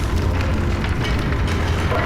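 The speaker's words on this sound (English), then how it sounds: "Whistling steam and more shake." Rumbling, shaking machinery with hissing steam in the horror game Amnesia: A Machine for Pigs, a dense loud low roar that continues without a break.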